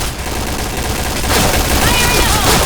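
Kriss S.V. Sakura submachine gun firing in a game, a continuous loud rapid rattle that swells partway through, with speech mixed in.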